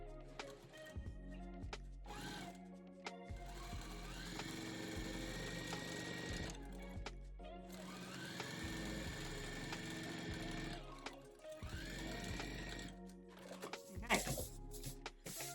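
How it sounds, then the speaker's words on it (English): A sewing machine runs a quarter-inch seam in bursts, its rapid mechanical whirring and needle clatter starting and stopping several times, close and clear, with a voice speaking in between. "Let me turn my sewing machine on."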